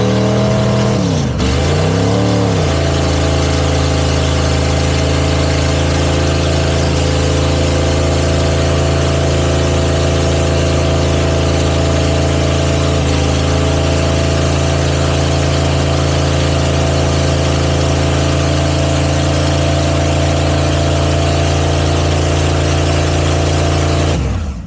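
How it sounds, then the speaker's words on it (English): A car engine at a burnout competition roars continuously with the rear tire spinning, a loud sustained drone with one quick rev dip near the start, steady and close throughout. "That rear tire just kept on spinning."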